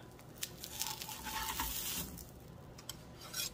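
Steady sizzle of food browning in a sprayed frying pan for apple dumplings, a continuous close frying hiss with occasional small crackles and no talk.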